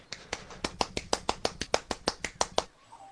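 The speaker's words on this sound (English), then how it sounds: "I can clap with one hand." A rapid series of about fifteen crisp, sharp one-handed claps, evenly spaced and fairly close, fading out at the end.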